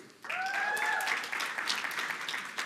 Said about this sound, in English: team is comprised of Cindy Cassandra Ineza, a round of applause, Davin Uwase,